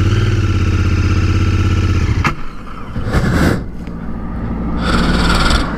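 Royal Enfield motorcycle engine idling steadily, then cutting briefly before pulling away in first gear with rising revs and a rough, throaty note, loud and close with no talk.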